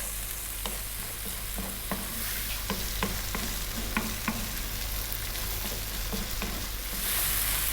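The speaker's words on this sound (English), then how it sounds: "we're going to cook this stirring all the time for around 3 minutes" Black chickpeas stirred and fried in a pan over slightly above medium heat, with a steady sizzle and a series of regular scraping stirs close by.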